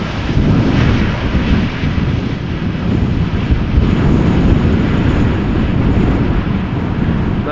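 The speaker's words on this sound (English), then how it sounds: "KLM flight 682, arriving from Vancouver, Canada. 777-300 ER." KLM Boeing 777-300ER arriving at Amsterdam Schiphol in strong crosswind, a continuous loud jet roar with heavy low rumble and wind buffeting the microphone, with no talk.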